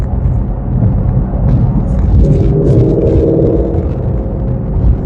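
Deep, steady exhaust rumble from a Jack Roush stage 3 Ford Mustang, loud and close, holding a low throaty drone for several seconds with a slight shift in tone partway through.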